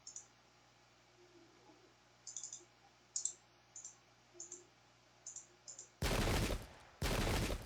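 Musket volley fire in Pike and Shot, two loud dense crackling volleys near the end after a run of faint clicks over a quiet hum.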